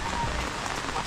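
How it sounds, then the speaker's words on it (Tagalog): Heavy rain pours down outdoors, a dense continuous hiss of drops striking surfaces, loud and close for the whole short stretch. "So silong na to kasi napalakas talaga ng ulan."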